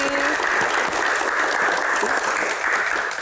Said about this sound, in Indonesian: tepuk tangan untuk Mbak Sundari